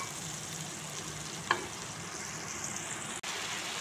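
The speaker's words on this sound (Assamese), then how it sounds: "এইখিনি মই ধুনীয়াকৈ ফ্ৰাই হ'বলৈ দিওঁ মানে মছলাটো কেঁচা গোন্ধটো সম্পূৰ্ণ যোৱালৈকে মই এনেকৈ ৰাখি থৈ দিম মিডিয়াম ফ্লেমত" Masala fries in oil over a medium gas flame while a jackfruit seed dish is cooked, giving a steady close sizzle with one brief clink partway through.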